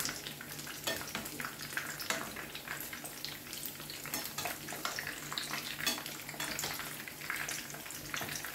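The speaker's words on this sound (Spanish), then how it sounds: "Le vamos añadiendo las albóndigas de berenjenas. Y la vamos friendo hasta que estén doraditas." Eggplant meatballs with cheese centres frying in sunflower oil: a steady, fairly faint crackling sizzle with scattered pops, continuous and alone.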